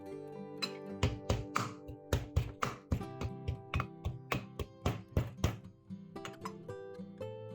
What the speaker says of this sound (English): Use a pestle or spoon to lightly pound the ginger.